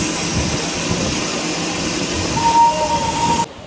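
Darjeeling steam toy train at Ghum station makes a steady, loud rumbling hiss of engine and carriages, with a brief thin squeal near the end before it cuts off.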